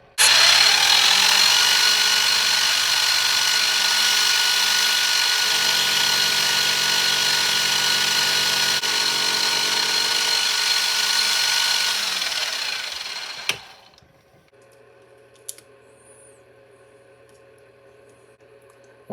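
A small metal lathe takes a light skim cut while machining the bed part of a model lathe, giving a steady, loud whine with a tonal hum for about thirteen seconds before spinning down, then a few faint clicks in near silence.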